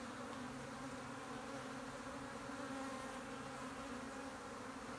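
Honey bees in an opened breeder hive give off a steady, even buzz that fills the whole stretch, a dense hum with no voices over it.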